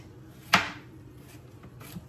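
A single sharp knife chop through vegetables on a cutting board, cutting them into bite-size pieces for freezing, with a faint second tap near the end and quiet kitchen background.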